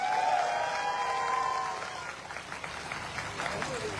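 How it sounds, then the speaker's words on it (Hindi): Applause rises from the crowd at an AWPL company gathering in India honouring the MD and CEO. A voice is heard briefly at the start, then steady clapping continues at moderate loudness. "एक जोरदार तालियां होना चाहिए दोस्त"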